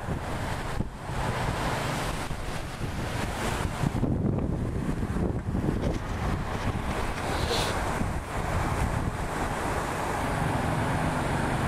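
Strong wind buffets the microphone throughout while fishing outdoors on a cold, blustery day, a continuous loud roar with gusts and rushing noise and no talk.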